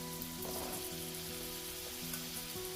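Mushrooms cooking in heated oil, with a continuous soft sizzle and bubbling sound close by, steady and unbroken throughout, with no speech.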